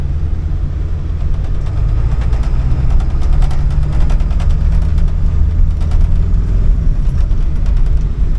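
A Ford F250 pickup's 7.3 Powerstroke diesel engine runs steadily with a deep, continuous rumble, close and loud, with a slight misfire adding faint irregular roughness to the drone.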